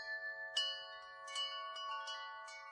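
Bells ring out in several clear struck tones with long, shimmering decays, fairly faint and at a distance, with no voices.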